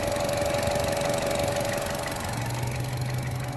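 A 2016 Chevrolet Trax engine runs at idle with the oil dipstick pulled out, giving a steady, close mechanical drone with a faint ticking, knocking texture throughout. There is no talking.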